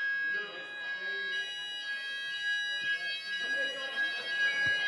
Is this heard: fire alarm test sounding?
yes